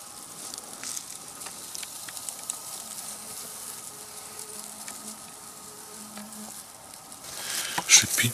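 A snake lying in the sun on a forest path hisses in a soft, steady breathy rush, close but faint, with a louder burst near the end and faint insect-like buzzing behind it.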